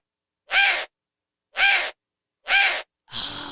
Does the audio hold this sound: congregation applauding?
no